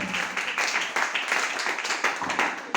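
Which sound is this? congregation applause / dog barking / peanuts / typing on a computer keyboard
congregation applause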